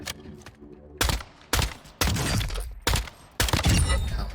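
Sharp, loud gunshots from an LMS semi-auto sniper rifle in a shooter video game ring out one at a time. Five or six separate cracks come at uneven intervals, each followed by a short tail.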